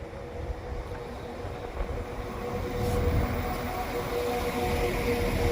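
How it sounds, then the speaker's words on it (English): A two-coach Class 195 train for Nottingham draws into platform 2 at Chesterfield station, a steady low rumble and rail hiss that swells gently as it nears, continuous throughout. "Now the train for Nottingham is now approaching the station"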